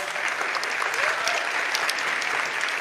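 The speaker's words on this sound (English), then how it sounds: "she really deserves a loud round of applause" A loud, dense round of applause from an audience at a tribute to a kathak dancer, sustained and even across the whole stretch with no speech on top.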